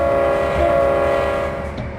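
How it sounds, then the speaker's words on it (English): A locomotive in the Trainz Simulator video game starts to roll, producing a loud, steady diesel engine drone with a sustained horn-like tone. The sound fades slightly toward the end and there is no talk. "Use the right trigger to increase the throttle to position 1 to start the train"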